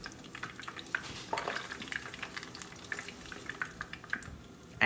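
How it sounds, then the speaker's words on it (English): A tortilla fries in hot oil in a pan, giving a steady close sizzle and bubbling with scattered small pops and a brief clatter near the end, no talking. "We're gonna go ahead and start frying it."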